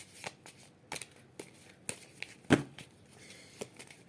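Heart-shaped oracle cards are shuffled by hand close by, giving a series of short, crisp flicking and riffling bursts at an uneven rhythm, with one louder slap midway.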